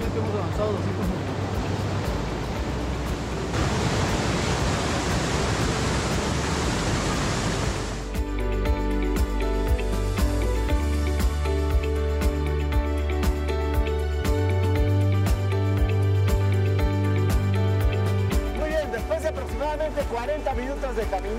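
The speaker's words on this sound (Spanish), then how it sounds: "A la Catarata de Cinco Cerros, ven es una preciosa cascada" The Catarata de Cinco Cerros waterfall in San Mateo de Otao, Peru, gives off a loud, steady rushing roar for several seconds. Music then takes over, with the water noise continuing beneath it.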